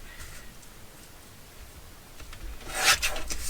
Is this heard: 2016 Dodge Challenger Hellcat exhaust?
no